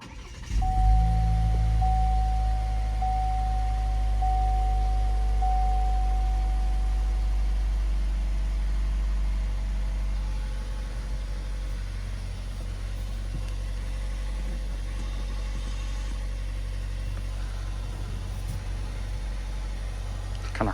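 A 2021 Cadillac XT5 Luxury, started by push button, fires up with a loud engine catch that settles after a few seconds into a smooth, steady idle, heard close and alone.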